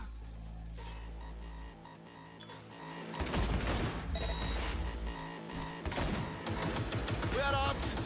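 Rapid bursts of gunfire in the Cyberpunk 2077 video game, loud and dense after a quieter opening, with heavy crashing shots overlapping game music and effects.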